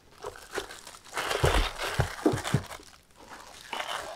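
Plastic packaging crinkles and rustles while wireless headphones are unboxed, a close run of irregular crackles and soft tears that swells in the middle and eases off toward the end, with no talking.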